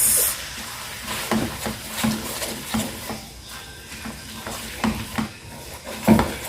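Surinamese bami noodles with a spoon of sugar are stirred and tossed in a hot pan, a soft sizzle under rhythmic scrapes and light utensil clinks, close up and without talking.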